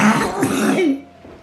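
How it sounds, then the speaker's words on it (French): A close, rough bout of coughing and throat clearing, harsh and voiced, trailing off into near silence. "je tousse comme un cinglé là"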